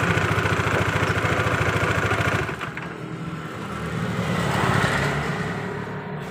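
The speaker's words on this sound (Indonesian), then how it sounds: "kita matikan dulu mesin motornya" A Honda Vario scooter engine idles loudly and close with a steady rapid pulse, then is switched off, leaving a fading mechanical whir and rattle.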